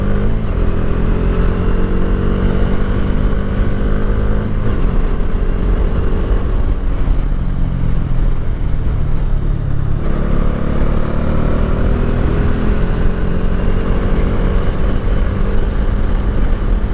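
Stock Bajaj Dominar 400 UG2 motorcycle ridden at top speed, a loud steady engine drone with heavy wind rush, the pitch dipping and climbing back up during two gear changes.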